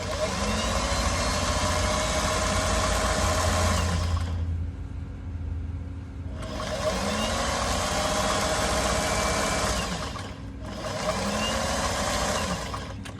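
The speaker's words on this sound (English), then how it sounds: "So now I'm just sewing this with the straight stitch." A sewing machine runs a straight quarter-inch seam on overalls in three long, steady whirring bursts separated by short pauses, close and fairly loud.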